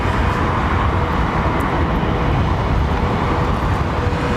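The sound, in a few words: aircraft jet engines at Heathrow Airport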